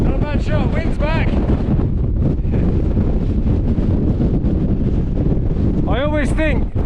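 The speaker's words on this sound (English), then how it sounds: "Wind's back." Wind gusting across an open hillside on a long-distance hike, a steady loud rumble buffeting the microphone throughout, with bird-like chirps or squeaks at the start and end.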